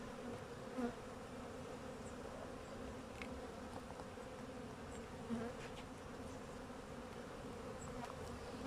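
Honey bees buzz steadily in a dense, continuous drone at a hive, with occasional louder passes close by.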